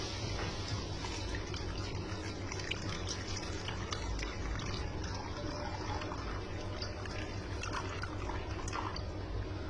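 About a glass of water poured into an iron kadhai for a homemade hair remedy, a steady liquid fill with faint drips under a constant background hiss, no talking.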